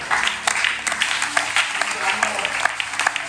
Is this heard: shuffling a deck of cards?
no